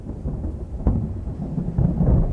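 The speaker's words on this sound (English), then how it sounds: "And on top of it all, it's pouring rain on Christmas Eve." Heavy rain pours steadily on Christmas Eve, with a low rumbling thunderstorm underneath and a couple of sharper cracks, continuous and fairly loud with no talking.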